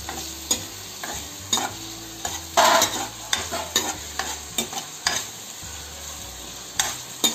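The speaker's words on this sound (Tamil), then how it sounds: "இப்போ நாம் வெங்காயம் தக்காளி திரும்பி வதக்கி விட்டு" Onions and tomatoes sauté in a pan for a Cuddalore-style fish curry, with a steady hiss and a spatula scraping and tapping the pan every half second or so, close and fairly loud with no talking.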